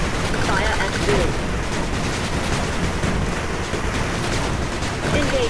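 Sustained battlefield gunfire from units in the retro-styled strategy game 8-Bit Armies, a dense continuous barrage of shots and blasts filling the whole stretch at steady loudness.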